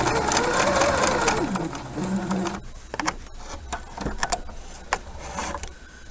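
A domestic sewing machine runs steadily while stitching an invisible zipper, then a few short bursts follow with pauses between them, close up and moderately loud.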